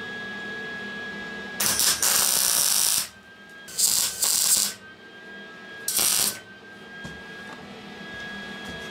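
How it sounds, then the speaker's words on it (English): Three loud, close bursts of welding on a flat steel chain guard for a homemade electric mountain bike, each a harsh crackling hiss lasting about a second, with quiet pauses between. "And I'm just gonna weld it in place."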